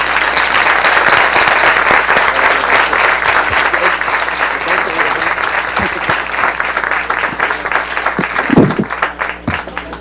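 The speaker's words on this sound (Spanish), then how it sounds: "un aplauso para ustedes, se lo merecen" An audience at a national parliamentary debate applauds after a talk, with a full, steady wash of clapping throughout, a few sharper individual claps and some faint crowd murmur near the end.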